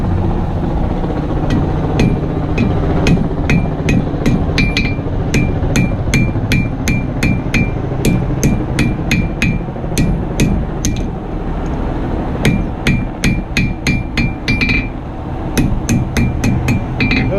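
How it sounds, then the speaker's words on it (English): A blacksmith forges a knife blade, striking it repeatedly on an anvil with a hammer. The sharp metallic rings come in a steady rhythm with brief pauses between runs, loud and close. "I'll tap on that opposite side and let that anvil do all the hard work for me"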